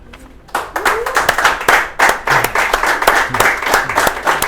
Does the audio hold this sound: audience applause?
yes